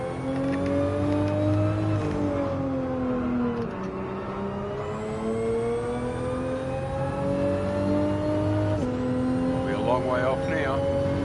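A race car in Gran Turismo 7 on badly worn tyres revs hard, its engine whine climbing in pitch and dropping at each gear change, repeated several times, loud and continuous.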